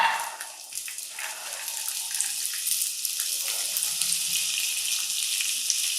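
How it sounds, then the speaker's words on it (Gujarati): Beans and papdi sizzle in hot oil seasoned with ajwain in a pressure cooker, giving a continuous, fairly soft hissing crackle that stays even throughout, with no voices. "હવે જે દાણા અને પાપડી આપણે લીધું છે એ આમાં એડ કરી દેવાનું"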